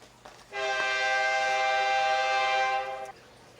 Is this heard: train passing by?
yes